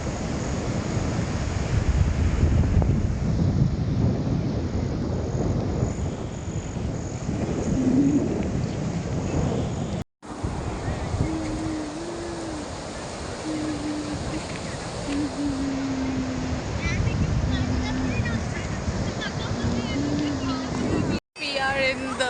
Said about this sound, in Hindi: We are in the beach.